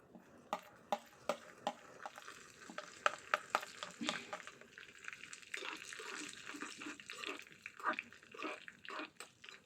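Onions and dried red chillies fry in a pan of oil for a moong dal fry, with steady sizzling broken by sharp spoon-scraping clicks, loud at first and then settling into a continuous crackle.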